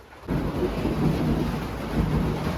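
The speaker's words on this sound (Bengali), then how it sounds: "একদম ধামা বৃষ্টি আসছে মেঘ গর্জন করছে প্রচুর পরিমাণে বিদ্যুৎ চমকাচ্ছে" Heavy thunderstorm with a continuous roar of pouring rain and rumbling thunder, loud and close, filling the whole stretch without voices.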